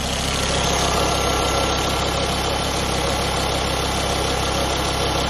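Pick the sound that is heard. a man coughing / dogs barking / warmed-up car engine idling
warmed-up car engine idling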